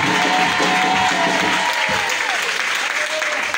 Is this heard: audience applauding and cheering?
yes